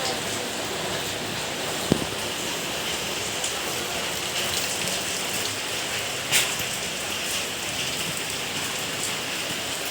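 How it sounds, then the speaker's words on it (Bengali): Heavy rain pouring steadily over a village yard in rural Bangladesh where paddy is dried, a dense even hiss of drops with a couple of brief knocks, no voices. "প্রচুর পরিমাণে বৃষ্টি হচ্ছে।"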